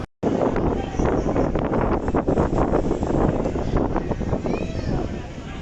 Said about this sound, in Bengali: তার সাথে বাতাসের কথা আর কি বলবো, প্রচণ্ড বেগে বাতাস বইছে।